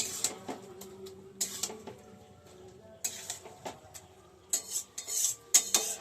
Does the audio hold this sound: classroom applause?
no